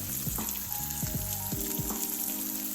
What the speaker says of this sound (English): I need a little bit more oil, so I'm going to add a little bit more olive oil to that